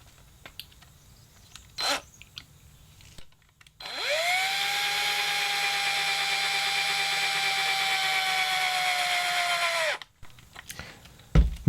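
A power drill whirs up and runs steadily for several seconds at a constant whine, spinning a 3D-printed attachment for a wooden lure, then stops; brief clicks and handling noises before and after.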